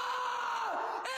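A shrill, strained human scream used as a video game sound effect, one sustained cry lasting about a second, loud and upfront with no other sound.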